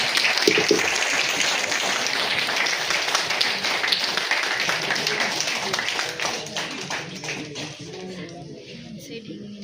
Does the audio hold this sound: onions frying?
no